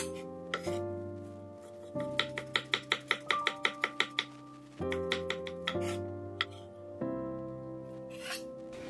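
Knife slicing through crushed garlic cloves on a cutting board, a quick run of about a dozen sharp, evenly spaced chops, then softer scattered cuts, close and clear with a steady background hum.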